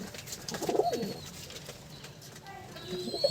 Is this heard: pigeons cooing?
yes